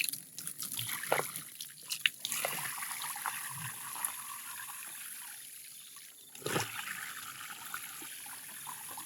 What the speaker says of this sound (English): This is hot water.